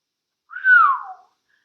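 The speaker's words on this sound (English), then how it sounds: "Holmes whistled." A single clear whistled note from a man, rising briefly then gliding downward, about three-quarters of a second long, alone in silence.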